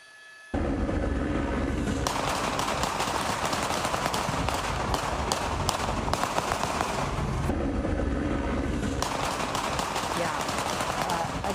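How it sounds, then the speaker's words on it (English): Rapid gunfire from police standoff footage with a suspect in a bullet-riddled SUV in Atwater Village, dense bursts of sharp cracks running continuously under a talking voice. "when you see that video and you hear the rapid gunfire, you can't tell who's actually firing"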